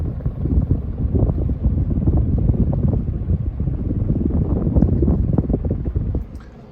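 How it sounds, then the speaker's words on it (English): A Design House Manhattan ceiling fan runs close to the microphone, its blades pushing a steady, fairly loud whooshing wind noise that holds evenly before easing off at the end. "let me go ahead and give you a close-up so you can hear the wind noise on this fan"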